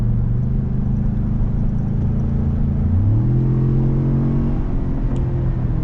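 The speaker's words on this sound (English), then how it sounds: "I just gave it a little gas" A 2016 Ford F-150 Platinum with the 3.5 EcoBoost turbo engine accelerates gently: a steady low cabin rumble climbs in pitch around midway as the truck picks up speed, heard from inside with no talking.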